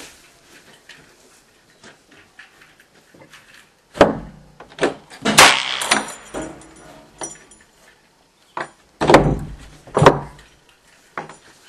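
A wooden door is pulled open to set off an airsoft door trip mine built from plastic pipe, giving clustered knocks, scrapes and thuds in two loud bursts separated by quieter handling noises.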